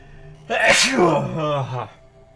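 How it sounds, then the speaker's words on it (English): A single loud sneeze, close by, with a voiced buildup and sharp burst, lasting about a second and a half. "But I must sneeze."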